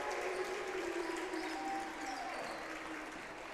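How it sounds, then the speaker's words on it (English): Crowd at a high school basketball game between Port Allegany and Oswayo Valley roars and applauds after a three-pointer, a dense, sustained wash of cheering that holds steady and eases slightly toward the end, with no talk over it. "we hear the crowd going nuts"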